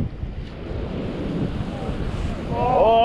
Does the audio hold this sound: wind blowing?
yes